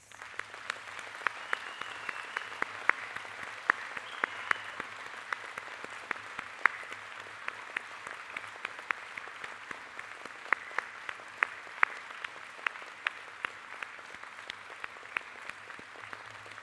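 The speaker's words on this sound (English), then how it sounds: "join me in congratulating our graduates by giving them a warm round of applause" Warm, sustained applause from a graduation ceremony audience of family, friends and teachers for Faculty of Business and Law graduates, a steady even patter of many hands with sharper individual claps, moderately distant and heard alone.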